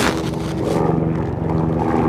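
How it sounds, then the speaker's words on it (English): A helicopter flies overhead outdoors, its steady, loud rotor thump and engine drone filling the whole stretch with a continuous low pulsing throb, with no voices. "You got a helicopter flying over."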